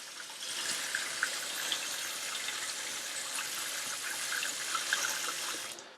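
Water running steadily from a newly installed kitchen sink faucet, a continuous hissing splash that holds close and even for about six seconds, then cuts off.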